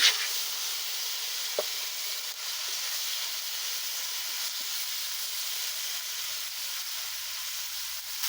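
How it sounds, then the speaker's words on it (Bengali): Onion, garlic and ginger spice pastes sizzle in hot oil left in a wok after frying rohu fish, a steady, bright frying hiss that runs unbroken at an even level, with a brief clink near the start and no talk. "আমি এই তেলের মধ্যে সব মশলা দিয়ে দিব"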